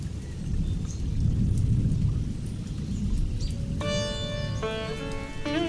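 Steady rain hisses throughout with low rumbling like distant thunder; near the end a bright tonal melody plays over it.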